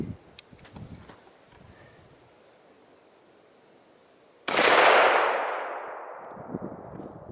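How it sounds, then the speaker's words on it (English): A single sharp 30-06 rifle shot firing a soft point round at a steel target cracks loudly midway, its blast decaying over a couple of seconds after a quieter stretch with faint ticks and clatter. "So I'm going to hit it with 30-06. We got some soft points there."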